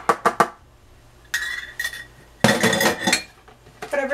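Baking utensils and dishes are put away in a home kitchen: clattering cutlery, clinking crockery and knocks in uneven bursts, close and fairly loud, with no talking.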